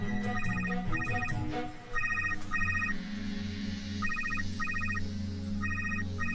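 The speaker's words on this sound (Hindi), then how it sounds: "रुको, मैं फोन फोन लगाती हूँ।" A mobile phone rings from an incoming call in a Hindi comedy film. A bright electronic ringtone repeats in short, regular pulses over a quiet room background.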